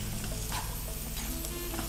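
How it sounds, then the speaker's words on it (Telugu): Grated bottle gourd halwa frying in a pan gives a steady, close sizzle with soft scraping strokes as the mixture is stirred, with no voices over it. "ఆ పచ్చి వాసన పోయే వరకు ఇంకాస్త అది ఫ్రై అవ్వాలండి."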